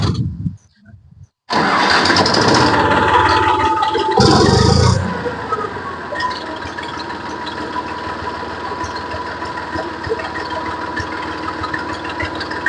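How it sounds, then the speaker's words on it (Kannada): An Eicher tractor's diesel engine cranks over and catches, settling into a steady loud idle that runs alone with no talk. "ಸರ್ ಗಾಡಿ ಸ್ಟಾರ್ಟ್ ಮಾಡ್ತಾ ಇದೀವಿ"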